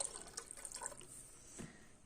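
Water poured into a pot of vegetable rice while cooking, a faint, brief splash and trickle of liquid close by.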